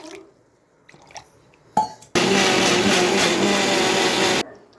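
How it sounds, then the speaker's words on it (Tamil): Mixer grinder blending green chillies, ginger and roasted gram with water for coconut chutney, a loud steady whirring roar lasting about two seconds after a few clicks and taps, then cutting off. "கொஞ்சம் தண்ணி ஊற்றி அரைச்சிட்டு வந்துடலாம்."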